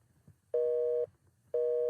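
A telephone busy signal: two identical flat electronic tones, each about half a second long, separated by a short silence, loud and clear.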